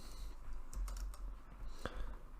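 Quiet, steady keystrokes tap out Java code on a computer keyboard, a string of soft clicks with small irregular pauses between them.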